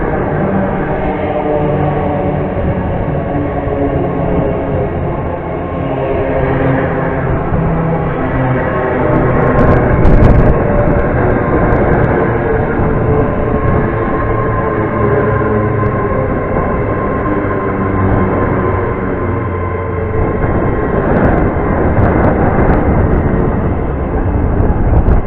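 A Great Western Railway Class 800 train arrives at Reading station, a loud sustained engine and rolling rumble that swells around the middle and holds steady throughout, with no talk over it.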